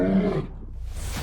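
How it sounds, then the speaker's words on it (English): A lion lets out a single deep, loud roar that swells and fades within about a second, close and unaccompanied by any voices. "he announces his presence with a deafening roar."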